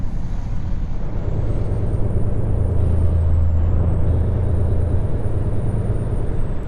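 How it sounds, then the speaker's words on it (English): Truck Jake brake in American Truck Simulator, a low, loud rumbling engine-brake drone that swells and holds steadily, with a faint high whine above it and no talking. "Riding that Jake brake."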